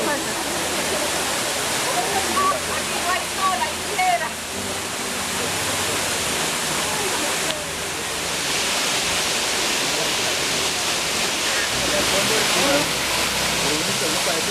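The Las Lajas waterfall at Supatá gives a steady, loud broadband roar of rushing water that lasts throughout, with faint voice-like traces near the start.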